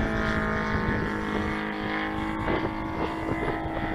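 Saito FG90 gasoline engine on a model Corsair aircraft, running rich on a 15-to-1 oil mix at about half throttle: a steady, continuous droning buzz, held at an even level throughout.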